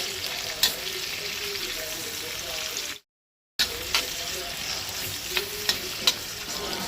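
Onion, garlic, ginger and green chili fry in hot oil for a Goan jackfruit seed bhaji, a loud continuous close sizzle with occasional spoon taps, cut by a brief dropout of silence midway.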